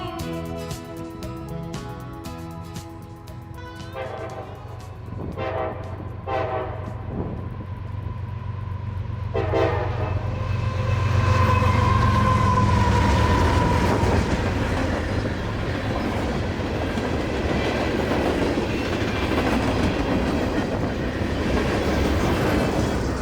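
CSX freight train M583, led by a New York Central engine, rolls past near Cartersville, Georgia, on the W&A subdivision. A horn sounds early, then a loud rumble and wheel clatter build and hold as the cars pass.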